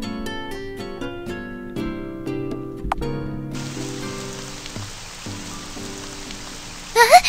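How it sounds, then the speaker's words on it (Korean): Rain starts falling in the horror video game CaNDLE. Soft music notes give way to a sudden, steady hiss of rainfall that continues to the end, with no talking. "비가 내리기 시작했어."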